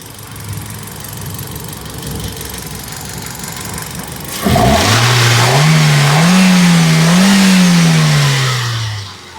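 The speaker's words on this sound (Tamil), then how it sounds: "வண்டி ஸ்டார்ட் பண்ணி காட்டுறேன் பாருங்கள் இது வந்து ஒன் பாயிண்ட் டூ கப்பா இன்ஜின் வந்து" A Hyundai i10 with a 1.2 Kappa petrol engine starts up, settles into a steady idle, then revs up and down in smooth rising and falling swells, close and loud with no talking.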